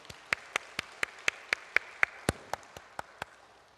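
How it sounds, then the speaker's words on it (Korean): A small church congregation gives a short round of applause, with about a dozen spaced, distinct claps ringing out at a steady pace in a quiet hall. "우리 한번 격려의 박수 한번 올려드리겠습니다."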